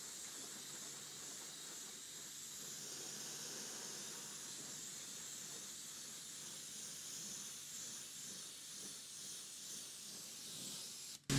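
Pressure washer spraying and rinsing a car wheel rim, a steady loud hissing jet of water that runs unbroken for about eleven seconds with no talk.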